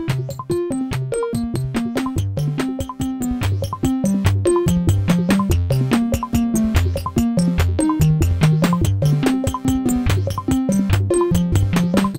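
A Dave Smith Tetra synthesizer runs sequenced loops, each voice playing its own pattern, giving a fast, steady stream of plucky pitched notes and ticking percussive hits that continue without pause and with no talking.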